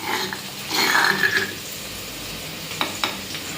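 A crushed paste sizzles in a pan with onions and curry leaves for a ridge gourd curry, with a louder burst of frying and stirring early on that settles into a quieter sizzle with a couple of scrapes near the end.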